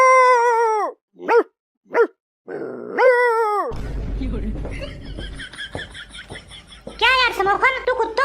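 A cartoon character imitates dogs barking and howling, a few yelps and drawn-out barks, followed by muffled rustling and more voiced dog-like cries.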